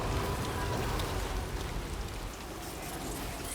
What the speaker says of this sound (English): Rain's already back, huh?